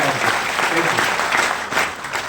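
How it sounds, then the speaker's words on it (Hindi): An audience gives loud, sustained applause, dense clapping filling the room close by, with some voices mixed into the crowd noise. "आप सभी लोगों के लिए जोरदार ताली होनी चाहिए।"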